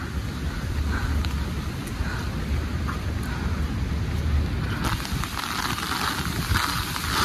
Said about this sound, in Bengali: প্রচণ্ড বাতাস হচ্ছে, তার সাথে বৃষ্টি